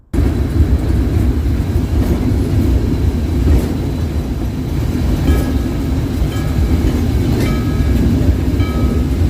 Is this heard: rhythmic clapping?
no